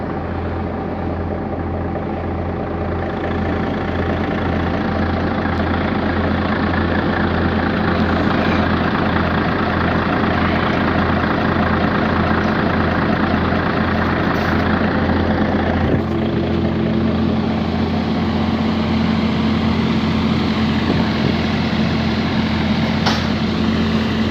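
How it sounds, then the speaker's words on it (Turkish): A tractor engine rumbles in a steady, loud, low drone, idling continuously throughout with a slight shift in tone partway through. "O traktörün brumu."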